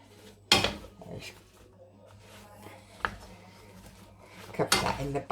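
A metal lid lands on a pot of leeks softening in melted butter, with a sharp clank near the start, a lighter knock midway and a final rattling clatter as it settles, over a low steady hum.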